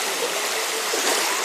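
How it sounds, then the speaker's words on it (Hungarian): Water rushes up at a beach strand, a steady broadband wash of surging, fizzing water heard close and continuous, without voices. "Ott jön föl a víz."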